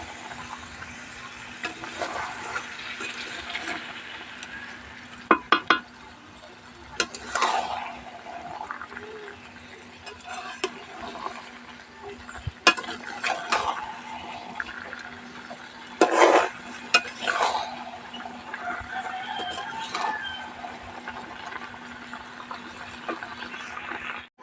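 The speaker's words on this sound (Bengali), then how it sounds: "মাংসের সাথে চালটা ভালো করে নাড়িয়ে চাড়িয়ে নেব" Rice and meat stirred together in a pot for parboiled-rice biryani, with intermittent scraping and clanks of a spoon against metal over a low steady hum, close and fairly soft.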